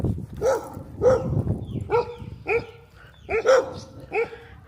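Several dogs in Thailand barking in short repeated bursts, loud and fairly close, with some whimpering yips mixed among the barks and no talking.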